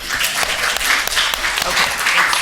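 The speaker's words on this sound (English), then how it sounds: "just clap so that we know that we're all ready to get started?" An audience at a panel event applauds together, a steady wash of many hands clapping for a couple of seconds with no speech over it.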